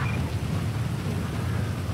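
A thunderstorm in the video game GTA 5, heard as dense, steady rain with a low rumbling of thunder underneath, loud and unbroken and with no voices.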